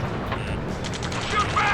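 Ace Combat 7 gunfire during the Rescue mission: rapid overlapping bursts of shots in a close, busy firefight, continuous over a rumbling battle background.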